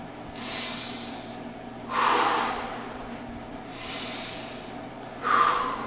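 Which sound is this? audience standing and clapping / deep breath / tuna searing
deep breath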